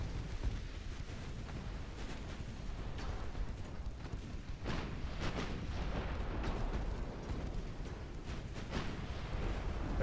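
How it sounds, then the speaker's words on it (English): A 12-inch high-explosive shell strikes a destroyer in a naval warfare game, a dense roar of rumbling blasts and booming impacts that swells midway and stays loud and continuous. "he just took a frickin' 12-inch HE round"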